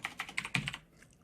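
Quick run of keystrokes on a computer keyboard while coding, about half a dozen crisp close clicks in fast succession, then quiet.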